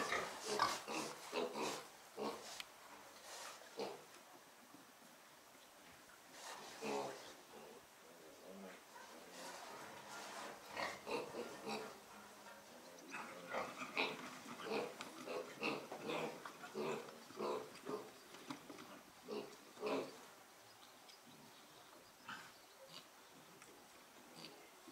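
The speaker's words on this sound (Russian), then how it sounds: "Два кабанчика. Давай туда. Давай." Piglets grunting and squealing in irregular bursts, fairly close, while people move a pair of young pigs on a farm.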